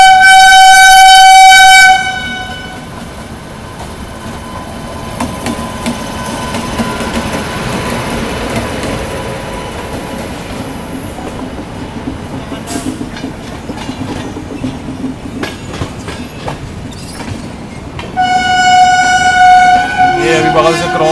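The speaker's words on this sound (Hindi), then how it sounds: "बगल से क्रॉस हो रही है जोगबनी कोलकाता एक्सप्रेस" The Jogbani Kolkata Express passing close alongside, with loud horn blasts at the start and finish and a long rumbling, clattering rush of carriages in between.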